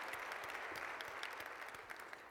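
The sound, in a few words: applause for a conference speaker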